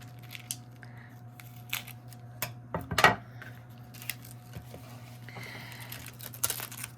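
A few crisp snips and clicks of scissors sound close by, sparse and irregular, with a brief rustle and clatter in an otherwise quiet room.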